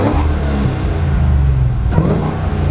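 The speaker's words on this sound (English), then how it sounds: "I'll actually rev the engine a little bit for you." A 2009 Cadillac CTS-V with a supercharged LS V8 revs close by, its deep, loud engine note swelling and dropping in quick blips, with an audible shift in pitch near the end.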